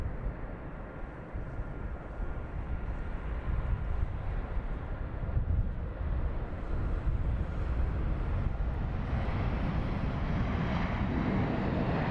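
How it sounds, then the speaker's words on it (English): A Thai Airways A380 pushing back and taxiing at London Heathrow, a distant broad jet engine rumble and hiss slowly growing louder, with wind noise on the microphone and no talking. "And now we have the Thai A380 pushing back and taxiing out."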